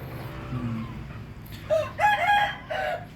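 Hens on a farm cluck and squawk in a few short, fairly close bursts over a low steady background hum.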